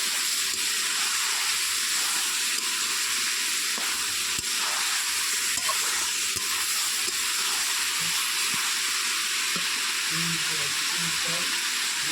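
Poultry meat fries and is stirred in a pan: a steady, close sizzling hiss, broken by occasional soft scrapes and knocks.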